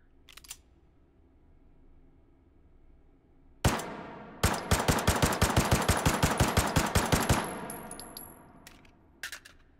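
A Russian 9x19mm gun fires in the VR game Hot Dogs, Horseshoes & Hand Grenades, a single sharp shot and then a rapid rattling burst of about fifteen metallic cracks, with a few clanks after.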